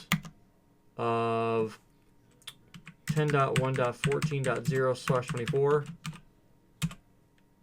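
Typing on a computer keyboard while entering a network prefix, scattered light key clicks heard under and between someone talking.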